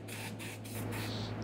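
Flexitol foot spray hisses steadily from an aerosol can onto metal as a weld anti-spatter coating, a continuous close spray with slight pulses and a low hum beneath.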